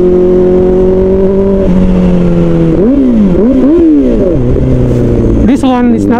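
A 2024 Kawasaki Ninja ZX-4RR with an Austen Racing muffler revs loud and close from the rider's seat, its high engine note holding, dipping and climbing again through quick rises and drops.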